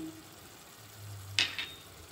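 Spiced chickpea curry masala sizzles softly in a pan as a ladle stirs it, with a short scraping clatter in the middle; quiet and close, no talk.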